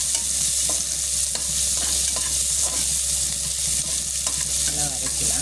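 Onion sautéing in a hot pan on a stove, a steady sizzle with repeated scraping and stirring strokes throughout, close and continuous with no talking.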